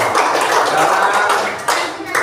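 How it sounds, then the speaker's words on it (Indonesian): A classroom of children claps hands together, a dense, loud burst of rapid claps lasting about two seconds, close by with faint voices mixed in. "Bagus, tepuk tangan."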